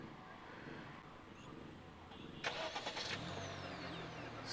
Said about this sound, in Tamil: நீங்கள் இந்த கீயை யூஸ் பண்ணி ரிமோட்டாகவே என்ஜினை ஸ்டார்ட் பண்ணி வச்சுக்கலாம்